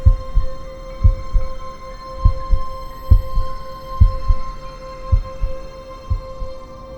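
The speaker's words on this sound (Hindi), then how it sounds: "मेरे दिल की धड़कन तेज हो गई" Heartbeat sound effect of steady, low thumping double beats, about one each second, set against a faint constant hum, with no voices.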